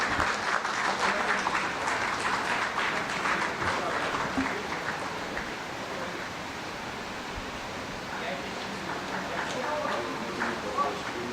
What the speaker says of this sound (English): We all can please stand and applaud them.